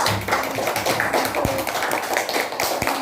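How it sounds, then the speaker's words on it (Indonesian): Students in a classroom clapping for a classmate after her answer in a science lesson: a close, uneven patter of claps from a small group, with a few sharper individual hits standing out over about three seconds. "Tepuk tangan dulu buat Tia"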